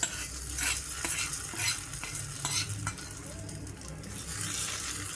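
Hot tempering poured into chutney crackles and sizzles while a spoon stirs with repeated scraping clicks, close and moderately quiet, with no voices.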